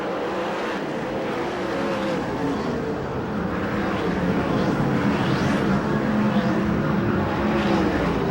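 USAC/CRA sprint cars race on the dirt track at Perris, California, their engines roaring continuously from near and far as the cars sweep past in waves.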